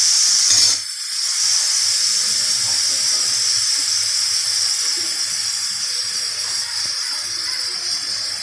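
Pointed gourd simmers with turmeric in a pan, a loud steady hiss and sizzle with a bright steamy tone that continues without a break after a brief dip at the start.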